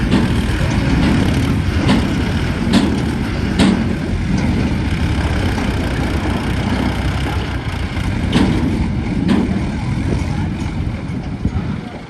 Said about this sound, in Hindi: तीन ट्रैक्टरों से भी नहीं निकली गाड़ी।